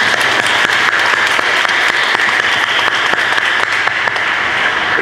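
A crowd of churchgoers applauding at a parish feast day Mass honoring Our Lady of the Rosary, a loud steady patter of many hands clapping throughout, with no voices on top.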